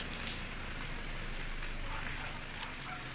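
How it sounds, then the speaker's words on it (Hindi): Steady rain pours down in a beautiful monsoon-like spell, a dense, even hiss of drops striking surfaces with no break, close and continuous throughout. "कितना खूबसूरत मौसम है, बारिश हो रही है, दिख रहा है बारिश।"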